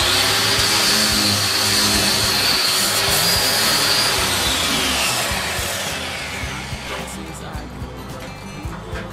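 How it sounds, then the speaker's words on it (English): Electric power sander working over a wooden lamp build, a loud steady whirring buzz that holds through most of the stretch and eases slightly toward the end. "now we'll just use the normal sander for the rest of it."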